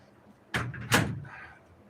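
A door is pushed shut indoors, giving a soft knock followed a moment later by a louder, fuller thud and a brief rattle, close by with no speech.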